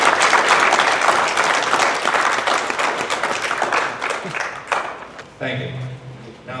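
A council meeting audience applauds the city's officers, a dense burst of clapping that swells then tapers off, followed by a voice speaking into a microphone.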